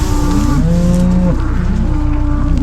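Cows on a hay-feeding farm moo loudly and close by, with several long, low overlapping calls and a few shorter ones against steady background noise.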